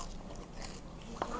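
A single crisp crunch of a bite stands out over quiet, muffled chewing noises, close and brief.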